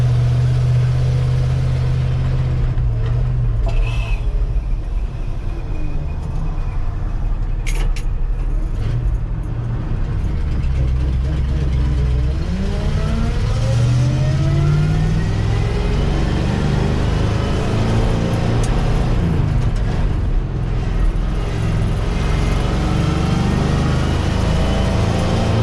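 A Ford F800 truck hauling soybeans runs loud and close throughout, with its engine droning and changing pitch as the gears are shifted.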